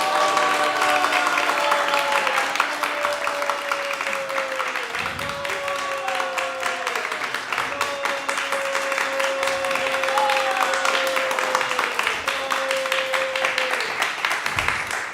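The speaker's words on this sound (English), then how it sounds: "Please give a big round of applause." Sustained applause from a temple audience at ISKCON of Silicon Valley welcoming a visiting speaker, dense steady clapping filling the room for the full length, with a faint tonal hum running underneath.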